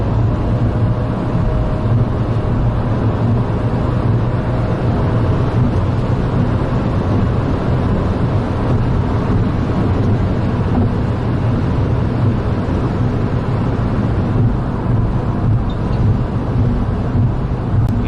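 Inside a Hyundai Casper Turbo on the move, steady road roar and wind rush fill the cabin, a constant broadband drone that never lets up.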